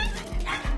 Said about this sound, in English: Ooh, fluffy doggy.